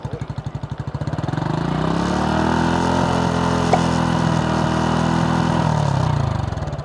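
A motorcycle fitted with a Yoshimura full exhaust idles with a loping pulse, then is held at about one-third throttle in a steady, loud, close drone before easing back down.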